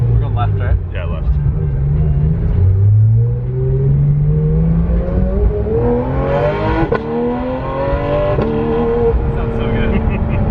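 A 1000HP Nissan S15 race car revving nearby, its engine note climbing and falling with sharp exhaust pops, while people talk over it.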